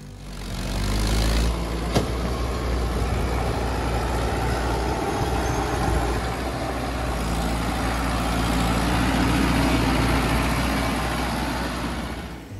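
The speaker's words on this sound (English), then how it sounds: "this powerful truck faces an extremely steep terrain" A heavy truck with a 500-horsepower engine hauls a load of wood up steep terrain, its engine a loud, continuous low drone that rises and falls slightly throughout.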